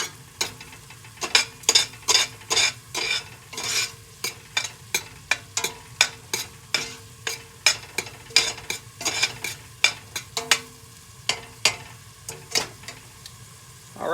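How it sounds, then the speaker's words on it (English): Butter melting and cooking in a pot as the base for New England clam chowder, with sizzling beneath a steady series of sharp stirring clicks and scrapes against the pot, close and fairly loud, no voices. "We're going to let this cook down just for a minute. Get all that butter melted."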